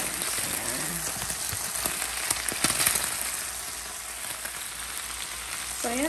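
Onions frying with chicken pieces in a pan for a stir-fry give a steady, moderate sizzle with occasional stirring scrapes and no talking.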